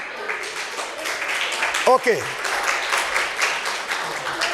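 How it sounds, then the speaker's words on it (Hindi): Applause from an audience in an arts council hall at a children's competition, a continuous crowd of clapping, with a brief spoken word cutting through midway. "अब तालियां बनती है कि नहीं?"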